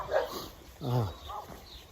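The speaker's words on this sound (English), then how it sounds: "typical residential part of town where dogs are barking left and right" A dog barks a few times in a residential part of a Transylvanian town, a couple of mid-distance woofs and yips, while a person talks over them.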